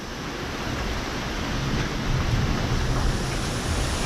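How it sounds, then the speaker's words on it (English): Strong wind gusts roar steadily outdoors during a severe wind storm, a dense, continuous rushing that swells slightly toward the end, with no voices. "I'm actually surprised we're still getting these incredible wind gusts."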